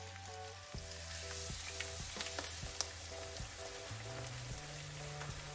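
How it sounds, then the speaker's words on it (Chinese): A corn cake fries slowly in hot oil over low heat, making a steady, gentle sizzle and crackle that lasts the whole stretch beneath soft background music. No voices are heard. "咱们小火慢慢煎上"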